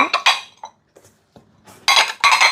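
Small and large plates from a four-person dinner set clink and knock against each other as they are handled, in a few close, bright bursts separated by short pauses.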